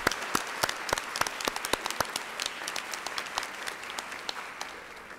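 An audience at a 125th-anniversary celebration Mass applauds a girls choir, giving a sparse, moderately distant round of individual claps that thins out gradually.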